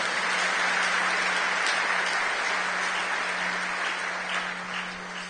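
A church congregation applauds during a sermon: dense, steady clapping from many hands fills the room from start to finish, with a low hum running underneath and a slight fade near the end.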